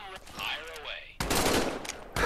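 An automatic weapon in Medal of Honor: Above and Beyond, played in VR on an Oculus Quest 2, fires a loud sustained burst after a moment of quieter talk and game ambience, followed by another burst at the end.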